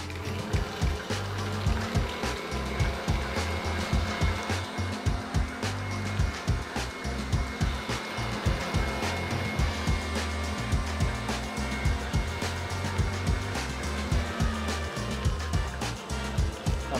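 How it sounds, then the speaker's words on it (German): Electric mixer whipping carrot cake batter, with egg yolks and lemon zest, until creamy: a steady motor whir with rhythmic low thumps as the beaters knock the bowl, running continuously. "Und dann alles zusammen cremig aufschlagen"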